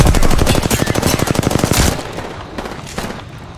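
Loud, rapid automatic gunfire rips through an Apex Legends firefight, a fast even burst of shots lasting about two seconds before cutting off into quieter scattered sounds.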